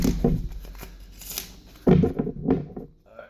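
A deck of playing cards is shuffled by a magician, with soft riffling and slapping bursts close by, a few separate flurries followed by quieter taps and handling, no talking.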